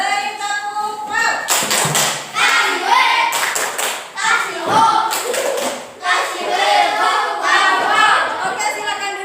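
Classroom applause with children clapping in quick bursts that start and stop several times, mixed with loud chatter and children's voices close by.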